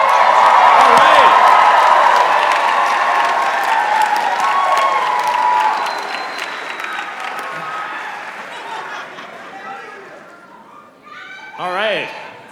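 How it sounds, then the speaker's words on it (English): A large crowd at a university commencement ceremony cheers and applauds loudly, a dense roar of clapping and whoops that gradually thins and fades, with a few scattered shouts and a voice near the end. "Go ahead and cheer your hearts out for your child, relative, or friend."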